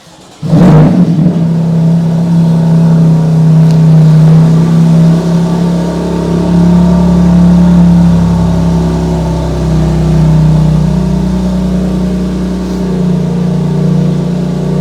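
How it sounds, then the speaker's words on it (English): A BMW M2 Competition with a PCW aftermarket exhaust starts and is revved while warm, a loud, steady rasping engine drone holding close to the microphone throughout with rising and falling rev swells. "I'll start up the car, I'll give it a few revs."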